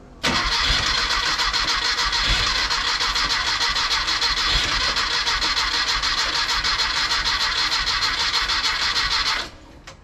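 A rebuilt car engine cranking with only the 1-2 side firing: a continuous loud starter grind and rough engine noise running unbroken for about nine seconds, then cutting off abruptly.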